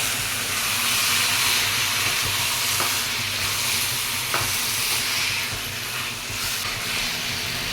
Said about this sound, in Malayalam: എന്നിട്ട് നമുക്കൊന്ന് നന്നായി ഇളക്കിയെടുക്കാം